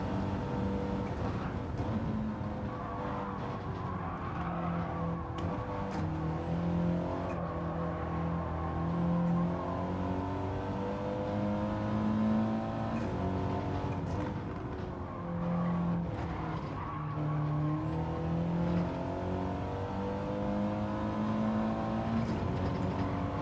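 An Audi TT Cup Gr.4 race car in Gran Turismo 7 drones continuously, engine pitch rising and falling through gear changes and corners, with intermittent tyre squeals layered over the steady roar and no talk.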